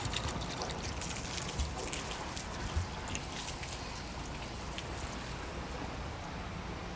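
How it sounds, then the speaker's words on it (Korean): Water splashed all at once onto a graphene-coated surface runs off in a soft, continuous trickle and dribble, faint and close, with no voices. "이번에는 물을 한꺼번에 뿌려가지고 얼마나 잘 흘러내리는지 보도록 할게요."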